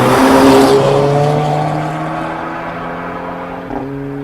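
A Volkswagen Golf GTI drives past at close range, its engine note loud at first and then sliding down in pitch as it moves away, with a brief second engine rise near the end.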